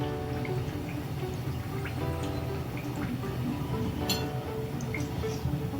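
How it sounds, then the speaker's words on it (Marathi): Steady bubbling sizzle of chakli deep-frying in hot oil, continuous and close, with faint clinks. "जोपर्यंत हे बुडबुडे येतात तोपर्यंत चकली तेलातच ठेवायची"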